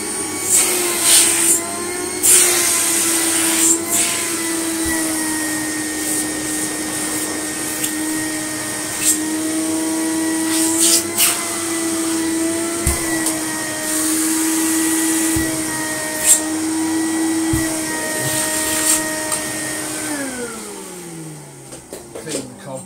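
A 1949 Electrix paint sprayer motor blows air through its hose with a loud, steady vacuum-like whine, punctuated by a few clicks and knocks, then winds down in pitch at the end.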